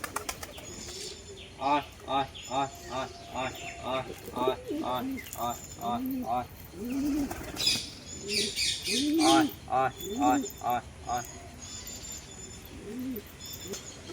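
A run of rhythmic, repeated calls that fits pigeons cooing, close by, with wings flapping and chirps mixed in, in a noisy outdoor setting.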